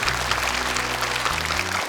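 Audience applause for a young contestant on a televised Quran memorization competition, a dense steady wash of clapping lasting throughout, with a low sustained musical tone underneath that shifts near the end.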